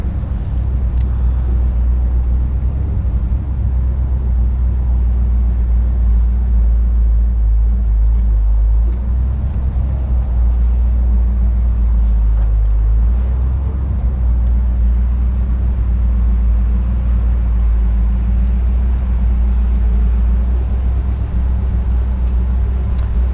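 A 1965 Chevrolet Impala convertible out on a test drive, its engine and road noise forming a loud, steady low rumble that holds evenly for more than twenty seconds with no talking.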